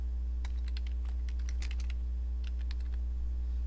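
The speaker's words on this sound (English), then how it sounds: "type the name here." Typing on a computer keyboard, a steady run of light key clicks in irregular bursts over a constant low electrical hum, with no voices.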